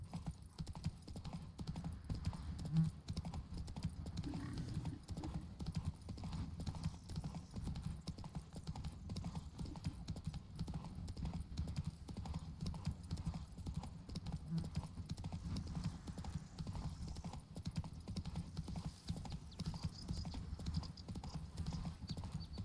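Horse hooves gallop in The Witcher 3 video game with a rapid, steady clip-clop rhythm that continues throughout, moderately loud over a low rumbling background.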